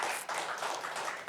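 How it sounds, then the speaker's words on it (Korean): A church congregation at a Sunday morning service claps together, a bright crackle of hands with a brief dip in the middle, fairly close and continuous. "박수 한번 쳐주세요"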